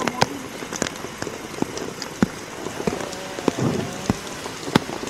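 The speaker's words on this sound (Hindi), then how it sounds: "दूसरी तस्वीर जहां पर बारिश हो रही है" Heavy rain from Cyclone Remal's landfall in West Bengal pours steadily onto surfaces, a dense continuous hiss broken by sharp drip and splash impacts scattered throughout.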